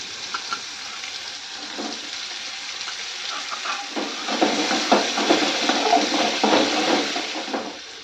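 Chopped radish sizzles in hot oil with curry leaves and coriander for radish chutney, a steady close hiss that grows louder partway through, with stirring scrapes and crackles.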